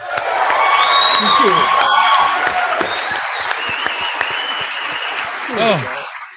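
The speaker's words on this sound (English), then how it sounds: "Can we clap it up for my dog" Audience applause with whoops and cheering from a live show crowd, a dense steady roar of clapping that swells again near the end, with some voices calling out over it.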